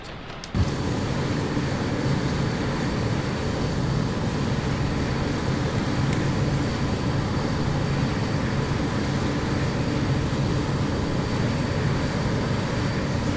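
Airliner jet engines in Microsoft Flight Simulator spool up to takeoff thrust, a steady loud broadband roar with a high whine that holds evenly throughout, no voices over it.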